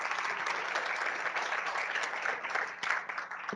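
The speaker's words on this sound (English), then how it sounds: "A round of applause for City Councilwoman Ana Sandoval." An audience applauds City Councilwoman Ana Sandoval at a Border Environmental Forum keynote luncheon, a steady wash of many hands clapping that fills the room without pause.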